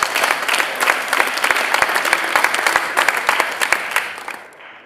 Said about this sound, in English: I think they should have a round of applause, actually, again.